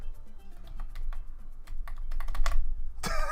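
Computer keyboard keys smacked hard during gaming make a rapid, uneven clatter of close, sharp clicks, ending in a louder burst.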